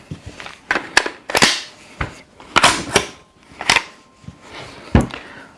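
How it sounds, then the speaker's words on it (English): A PSA AK-V rifle's bolt is handled and released, giving a series of sharp, close metallic clacks and snaps of varying loudness, with rattling handling noise between them and no speech. "you would simply pull down on that to release the bolt"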